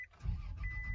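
A 2006 Toyota Tacoma engine, freshly rebuilt and started from cold, catches and settles into a steady high idle, a close low rumble after a brief starter whir.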